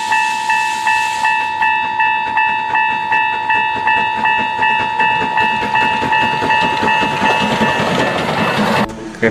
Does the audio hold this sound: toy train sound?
yes